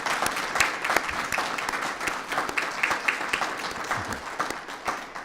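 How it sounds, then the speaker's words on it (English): Applause from an audience at the 2020 Heroes Among Us awards ceremony, a dense, steady burst of many hands clapping that holds for several seconds. "please, a round of applause, if you will"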